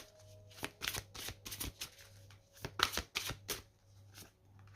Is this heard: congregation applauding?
no